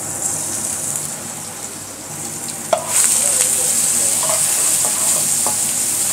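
Minced garlic and chopped shallots sizzle in a wok alongside ginger slices, a steady frying hiss punctuated by occasional scraping stir strokes that brighten and intensify partway through.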